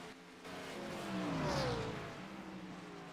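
A race car in a sim racing video game at Montreal accelerating hard, engine pitch climbing and sweeping through gears as it swells louder then eases, with faint whine underneath.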